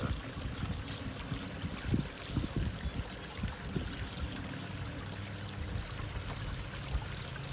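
A small waterfall pours steadily into an outdoor turtle pond, making a continuous close rushing, splashing wash without talk.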